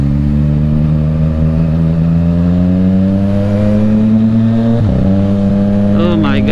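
A Yamaha MT-09 motorcycle engine rumbles steadily and its pitch climbs gradually as it revs up, loud and close, with a brief shift near the end.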